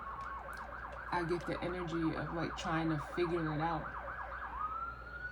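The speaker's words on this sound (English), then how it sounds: "Pardon the sirens" Emergency vehicle sirens wail outside in looping rising and falling tones, several overlapping and passing at a moderate distance, heard under someone speaking indoors.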